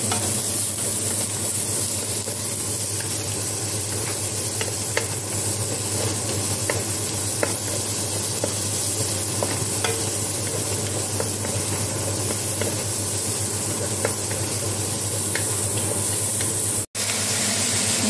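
Onions and carrots sauté in a pan, a steady, close sizzle and hiss running throughout with occasional light clicks of stirring, with no talk over it.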